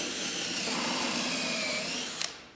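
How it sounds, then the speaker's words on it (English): A power drill bores a hole into a wooden beehive box, a steady close whirring drone that runs for about two seconds before cutting off with a couple of quick clicks. "I'm going to drill it in a different spot."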